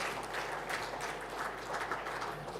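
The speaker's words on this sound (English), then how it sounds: "A warm applause, please." An audience at an opening ceremony applauds, and the clapping comes as a soft, steady patter that holds at a low level for a couple of seconds without a break.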